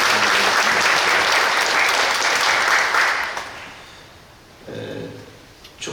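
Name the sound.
congregation applause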